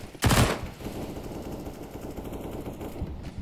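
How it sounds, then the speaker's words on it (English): Rapid automatic gunfire from a Counter-Strike match on the Inferno map, opening with a loud close burst and then continuing as a steady spray of shots and game ambience. "PTC eating up a few bullets, same goes for Dobu."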